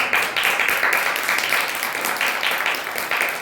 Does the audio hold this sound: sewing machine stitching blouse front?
no